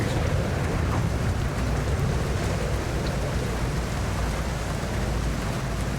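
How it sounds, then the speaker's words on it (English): Stormy rain pours in the video game The Alters, a dense, continuous hiss of heavy rainfall with a low rumbling undertone throughout and no speech. "It's kind of stormy."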